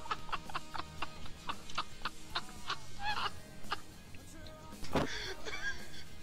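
Someone makes bird calls, a voice imitating fowl with a run of short, honking, clucking squawks in quick rhythm, followed by a louder burst, heard fairly close against a murmur of background noise.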